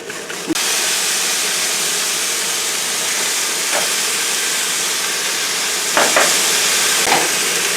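Meat browning in an already hot pan, a strong continuous sizzle and hiss lasting the whole time, with a few soft clinks and knocks near the start and toward the end.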